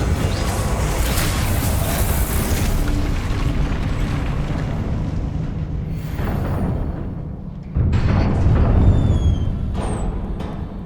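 Fire spell Incendio cast in the video game Hogwarts Legacy, a loud roaring burst with rushing whoosh that swells, fades, then erupts again near the end, thick and close.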